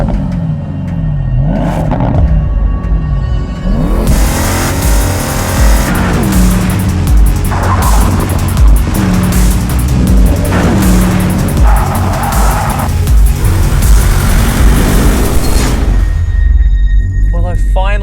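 A 2019 Porsche Panamera GTS twin-turbo V8 drives hard, its loud engine note rising through revs and gear changes with a deep rumble and occasional tire squeal, close up for most of the run before cutting off near the end.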